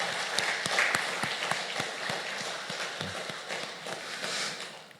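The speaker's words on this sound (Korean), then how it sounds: "우리 축복의 박수를 한번 같이 보내드리겠습니다" Church congregation clapping together during a Sunday worship service, a steady wash of applause with scattered individual claps standing out, fairly close and sustained through the whole stretch.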